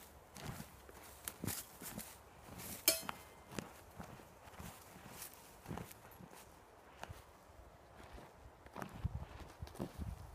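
A size 11 boot scrapes and scuffs the ground outdoors, clearing a spot for a stove: a series of irregular, close scraping strokes and thuds.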